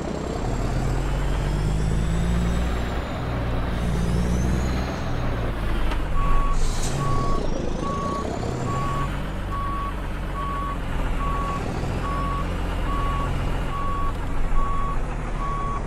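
A reversing alarm beeps steadily and evenly over the loud, continuous drone of a truck engine while a trailer is backed into a parking spot in Euro Truck Simulator 2, with a faint hiss of air brakes in the mix.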